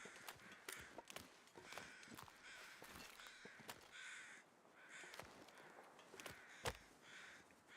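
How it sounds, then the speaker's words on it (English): Crows caw repeatedly at a middle distance in a survival video game, several harsh calls spaced out over the stretch, with faint footsteps and no talk. "Hear the crows."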